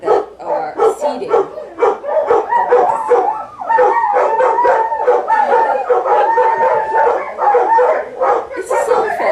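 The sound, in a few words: dogs howling, joining in with coyotes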